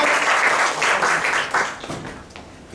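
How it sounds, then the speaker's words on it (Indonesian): A church congregation applauds after worship, loud dense clapping that fades toward the end. "Kita berikan tepuk tangan sekali lagi buat Tuhan."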